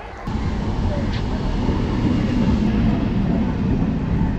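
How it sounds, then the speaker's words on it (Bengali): A train arriving at Gede station on the India-Bangladesh border rumbles steadily close by, a heavy continuous roar of wheels and engine filling the scene, with light rain falling. "তো আমাদের ট্রেন চলে এসেছে"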